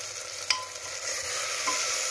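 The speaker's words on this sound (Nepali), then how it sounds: "यसलाई एकछिन भुट्दैछु साथीहरु।" Turmeric, cumin and coriander powder fry in a pan as the base for a simple Nepali-style local chicken curry, giving a steady close sizzle with a couple of sharp stirring clinks.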